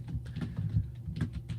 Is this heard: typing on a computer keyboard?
yes